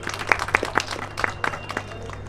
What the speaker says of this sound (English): I would want all of you to give a huge round of applause.